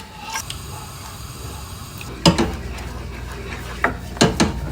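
A spoon scraping and tapping in a pan while sweet and sour sauce with rice vinegar is stirred over medium heat, a few sharp clinks and scrapes over a low steady background hiss, close and without talk.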